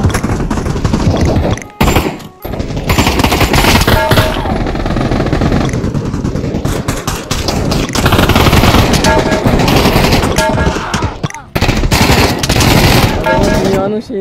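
Near-constant rapid automatic gunfire in CS:GO played in VR, loud and dense throughout with only brief pauses, while someone talks over the shooting.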